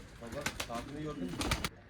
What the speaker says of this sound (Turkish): Necdet abinin bize hediye etmiş olduğu yavru güvercinler.